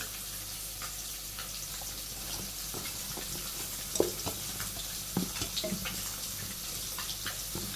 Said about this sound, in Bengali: শুধু আলু আর ফুলকপিটা মাখিয়ে নিই হলুদ মরিচ লবণ আর একটু তেল দিন